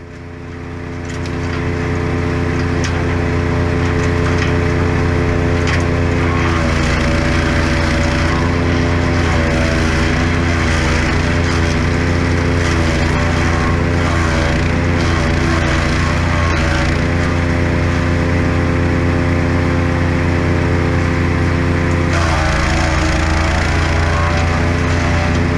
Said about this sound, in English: And then it's a matter of chipping it all.